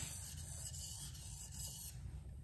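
A knife's heel is rubbed on a sharpening stone to remove a burr, making a quiet, close, continuous gritty scraping that rises and falls in short strokes.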